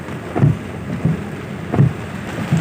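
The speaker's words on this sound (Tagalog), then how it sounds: "sobrang lakas talaga ng ulan mga kabero" Heavy rain pours on a fishing boat during a trip, a steady broadband hiss with low rumbling thumps every second or so, loud and close with no voices.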